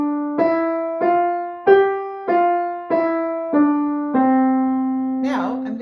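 Piano plays a five-note scale from C, rising and falling in nine steady single notes, clear and close, a brief burst of noise at the end.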